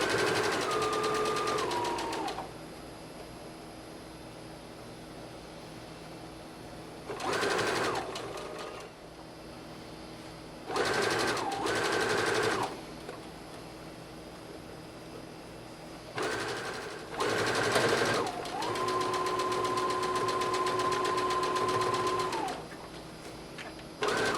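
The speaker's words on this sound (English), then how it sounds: "Now at this point we're only doing the straight stitch along here." A sewing machine runs a straight stitch along a gathered dress seam in several bursts of steady whirring, some long and some short, with quiet pauses between them and no talk.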